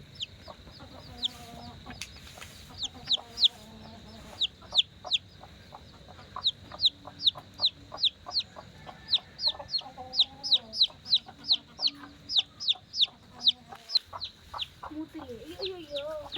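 Rapid high peeps from chicks repeat steadily throughout, with low clucking and a voice talking softly underneath.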